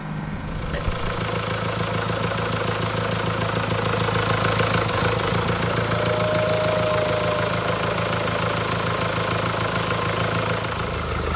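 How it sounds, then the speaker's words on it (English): A 2016 Mercedes E220d (W213) diesel engine, with timing chain and oil pump problems, idles steadily with a low, knocking rumble, running continuously at a constant level with no voices. "now we've got the engine running"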